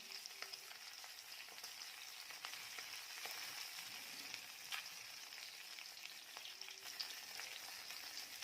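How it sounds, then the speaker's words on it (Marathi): Chopped bell peppers sauté in a hot oiled pan, giving a soft, continuous sizzle with occasional light stirring clicks, no talking. "याच पद्धतीने सगळ्या मिरच्या परतून घेते."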